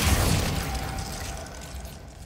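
A Glacius ice spell is cast in Hogwarts Legacy, opening with a loud icy crack and boom that decays into a shimmering, crystalline ring and fading rumble, with no voices.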